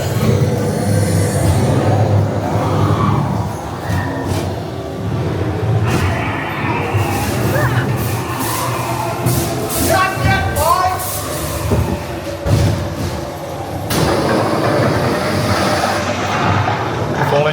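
Ghost train cars roll along the track inside a dark ride at the Santa Cruz Beach Boardwalk, a steady rumble with rattling under recorded effects and spooky noises, and voices talk throughout.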